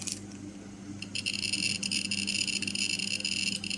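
An SI-22G Geiger counter held near a DP5 dosimeter check source crackles with rapid, dense clicking that thickens sharply after about a second and stays a busy, high, fizzing patter throughout.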